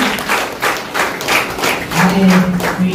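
An audience at a student awards ceremony gives a round of applause for a B.Com graduate, a burst of rhythmic hand claps that swells and keeps going, with a faint tone humming underneath near the end.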